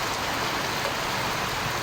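Heavy rain pours steadily, a dense unbroken hiss of water hitting surfaces nearby during flooding, with no voices.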